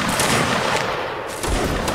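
A musket volley fires in the Napoleonic Wars mod of Mount & Blade: Warband, with a dense crackling burst of shots at the start and another sharp blast about halfway through, loud and close.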